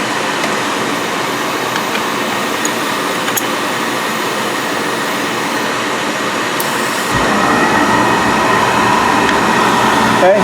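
A Biasi B4/B10 oil boiler fires up after a reset, a steady loud roaring rumble throughout that swells and deepens partway through as the burner catches.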